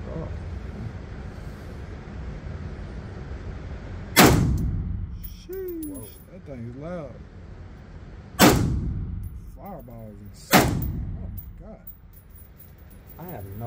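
Three loud, cracking shots from a 5.56 backpack gun ring out at uneven intervals outdoors, each followed by a short echoing decay, with people talking between them.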